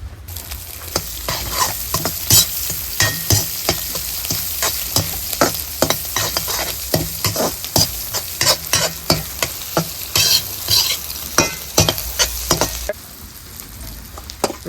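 Onions and tomatoes for egg fried rice sizzle in a pan while a spoon stirs and scrapes them in quick, irregular strokes, close and busy, with a quieter stretch of frying near the end.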